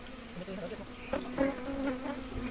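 A steady, droning buzz of many wild bees swarming close by during a colony transfer into a box, with individual insects flying past and the hum rising and falling slightly.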